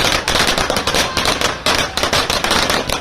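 Firecrackers are set off in celebration in Gorakhpur, a dense, loud, continuous crackle of rapid pops lasting throughout.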